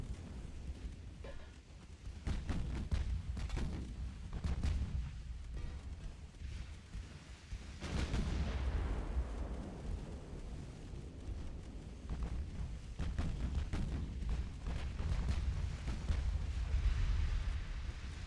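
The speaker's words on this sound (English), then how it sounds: "Guns are making me nervous." Naval gunfire from heavy 17-inch battleship guns in the video game Ultimate Admiral: Dreadnoughts, with distant deep booms rolling in at irregular intervals under a steady low rumble of sea and battle ambience.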